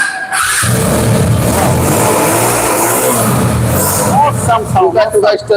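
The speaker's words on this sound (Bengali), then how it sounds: "এটাতে কিক নাই এটাতে self star self star engine" A self-start motorcycle engine, a Yamaha R15, running loudly and steadily close by, with someone talking over it throughout.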